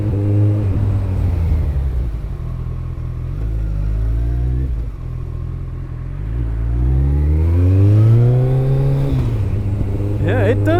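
A Kawasaki ZX-14R motorcycle rides through busy city streets, its engine rising and falling through throttle changes with a steady close rumble, while a rider talks over it.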